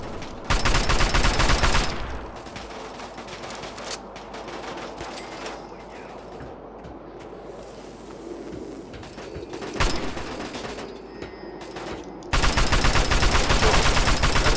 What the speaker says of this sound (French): je tire beaucoup dans le corps